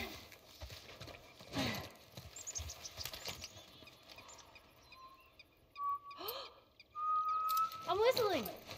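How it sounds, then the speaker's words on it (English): In The Last of Us, set in Pittsburgh, a character whistles a few short, rising notes near the end, after quiet footsteps and rustling in a calm outdoor setting. "I'm whistling."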